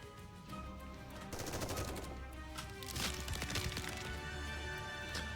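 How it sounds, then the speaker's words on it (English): Bullets fly from all directions and slam into an ice barrier in the NIKKE video game, rapid machine-gun fire with sharp cracking impacts that thicken into dense bursts, continuous and fairly loud. "Bullets flying from all directions slam into the ice barrier"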